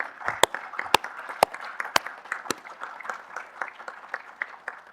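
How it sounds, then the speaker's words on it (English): A small group in regional council chambers claps for the works team, with several loud, distinct hand claps near the start giving way to a softer, scattered patter that thins out, no voices heard. "could we give our works team a round of applause?"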